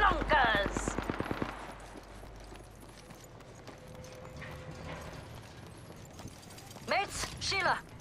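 Rapid bursts of gunfire from the Apex Legends battle royale, with a Wraith match in progress, crackle loudly in the opening second then fade into quieter game ambience, with a brief tonal effect midway and more chirpy sounds near the end.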